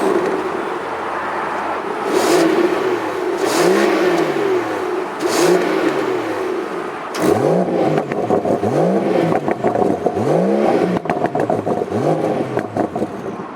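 A 2020 BMW M760i V12 sedan engine fires up and is blipped repeatedly, loud and close, with several rising-and-falling revs before and after a sharp restart, settling into a rumbling idle between throttle bursts.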